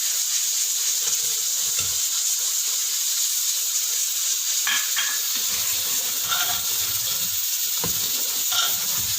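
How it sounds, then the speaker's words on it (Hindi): Mutton frying with spices and yogurt in a pan, a steady loud sizzling hiss throughout, with occasional soft scraping and stirring sounds underneath. "इसको खूब अच्छे से भून लेते हैं।"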